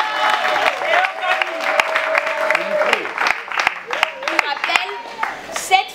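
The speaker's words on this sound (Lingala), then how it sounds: "Sous vos applaudissements." Audience clapping at a Women's Month celebration honouring a foundation president, a dense patter of claps that runs steadily under a talking voice throughout.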